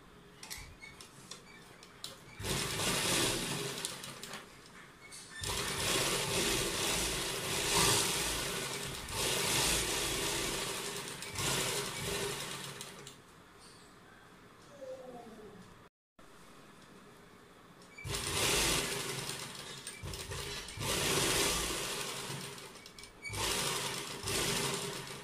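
A sewing machine stitches a thin pom-pom style edging lace onto the neckline of a Punjabi suit, running in several long whirring bursts with brief pauses and a short silent gap midway.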